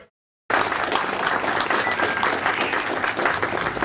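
Audience applause at the opening ceremony of an international conference in Surkhet, a loud, dense burst of clapping that starts abruptly after a short silence and continues steadily.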